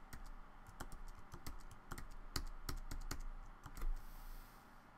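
Rapid keystrokes on a computer keyboard, a close, quiet run of irregular clicks and taps lasting a few seconds over faint background hum.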